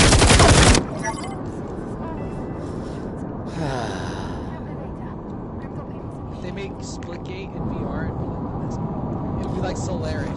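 Gunfire in the VR shooter Firewall: a sharp, loud burst at the start, then scattered, quieter shots and rattling under close, breathy talk and gasps.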